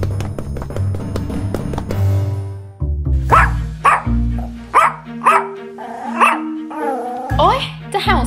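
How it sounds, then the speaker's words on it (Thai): A dog barks loudly and repeatedly in quick sharp bursts, close by, over a stretch of music and voices in an animated Barbie-style drama. "โอ๊ยจะเห่าเสียงดังทำไมเนี่ย"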